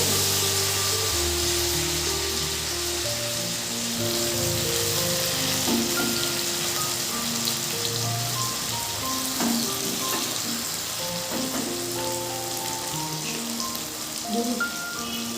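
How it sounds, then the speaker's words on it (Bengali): Potato pieces fry in oil with a steady, close, rain-like sizzle and crackle that carries on unbroken, with no talking. "আলুগুলো আমার ভাজা হয়ে গেছে।"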